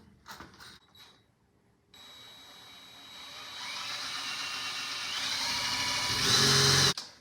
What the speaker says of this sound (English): Okay, I drilled a hole